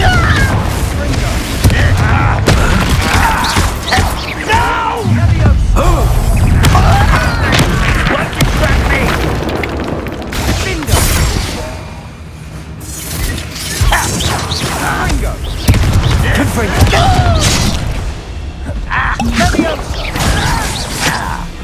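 Confringo blast spells explode in Hogwarts Legacy on Xbox Series S/X: loud, dense booms and crashes with mechanical clatter and whooshes, hitting repeatedly and almost without pause, with occasional voices mixed into the battle noise.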